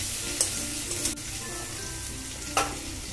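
Elephant foot yam curry sizzles steadily in a pan, with a soft continuous fry and a few brief scraping strokes from stirring.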